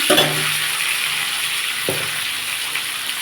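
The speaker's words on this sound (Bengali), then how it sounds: "এবার আমি এর মধ্যে আলুগুলো তুলে দেবো দিয়ে আলুগুলো ভাজবো" Long-cut potatoes fry in a pan with a steady, soft sizzle that continues evenly, broken by a couple of light clinks from a utensil.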